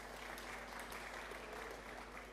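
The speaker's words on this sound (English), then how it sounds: "Let's give a round of applause." Brief, soft applause from an audience at a corporate workshop event, a muffled, steady wash of clapping heard at a distance over a low hum.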